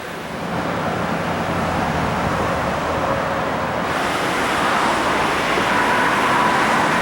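Vehicle traffic passing near a swollen river at Harpers Ferry, a steady wash of road noise blended with rushing water and some wind, growing slightly louder over time with no talking.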